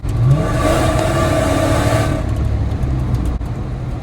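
A Dodge Hellcat's supercharged engine revs hard with a loud, throaty exhaust roar, then eases back to a lower rumble.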